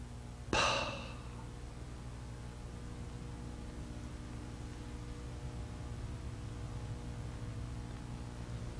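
A single forceful exhale or blown breath during a qigong breathing exercise, one sharp burst followed by quiet steady room hiss for the rest.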